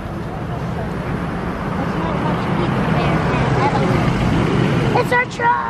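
A loud monster truck engine drones continuously at a Monster Jam show, a thick, steady roar filling the arena, with voices close by near the end.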